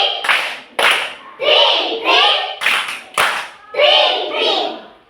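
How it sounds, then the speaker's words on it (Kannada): Children clapping a train train pattern in a steady repeating rhythm, pairs of sharp claps alternating with chanted children's voices, close and loud throughout. "ಟ್ರೈನ್ ಟ್ರೈನ್ ಚಪ್ಪಾಳೆ."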